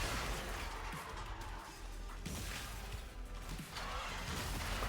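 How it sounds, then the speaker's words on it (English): Explosions from the Warframe video game rumble and crash continuously, with dense broadband bursts and booms layered over a loud, busy mix of game sound effects throughout. "God, the explosions in my freaking screen."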